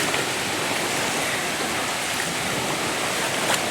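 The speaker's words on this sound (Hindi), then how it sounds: "पत्थरों पे पड़ने से निकलने वाली जो ध्वनि है, जिसे आप संगीत भी कह सकते हो" Amargarh waterfall pours onto rocks in a loud, steady broadband roar that holds without a break from close by, no voices.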